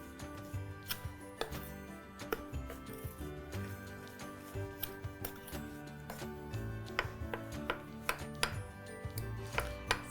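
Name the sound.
mixing flour, sugar and yeast with a spoon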